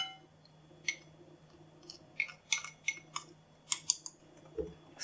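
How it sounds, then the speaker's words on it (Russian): Room-temperature butter is whisked for a cake: scattered sharp metallic clinks and taps against a bowl over a faint steady hum, close and fairly quiet. "Начинаю взбивать масло сливочное"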